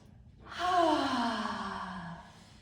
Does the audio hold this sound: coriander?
no